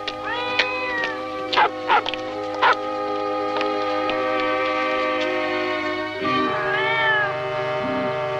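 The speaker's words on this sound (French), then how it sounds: "Puisque je vous dis que c'est un chat, voyons." A cat meows several times in short, clear cries over a steady tonal background hum, followed later by a longer, drawn-out meow near the end.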